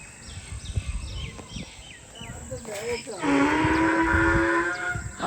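A donkey brays outdoors in a rural village: a run of short rising and falling calls, then one long, loud, drawn-out note, over faint background noise.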